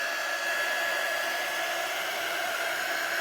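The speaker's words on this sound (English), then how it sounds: "those are the parts that you want to hit up with the dryer to help give it a little bit more of a crackle" A hair dryer blows over wet paint to bring out a crackle effect, giving a steady, loud, continuous whir with a high tonal whine, heard alone throughout.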